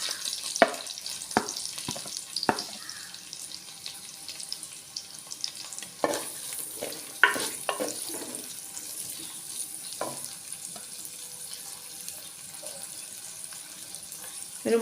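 Chopped onions frying in hot coconut oil in a pan for a beef milk curry, giving a steady close sizzle broken by a few clatters of stirring and utensil knocks.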